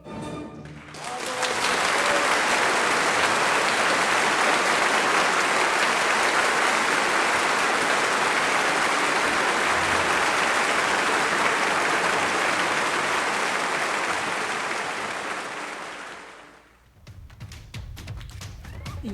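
Sustained, dense applause from a large audience, loud and continuous for about fifteen seconds before fading out.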